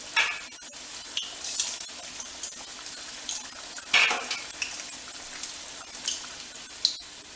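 Pakoda fritters go into a thick Chettinad banana flower tamarind gravy, followed by a soft bubbling simmer with faint scraping and light clinks from stirring, quiet and close.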